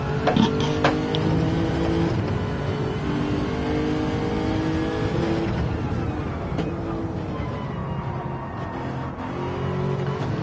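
Onboard race car lapping Spa in Gran Turismo 7, engine revving hard with rising pitch through the gears, shifts and a lift, loud and close throughout, with no commentary over it.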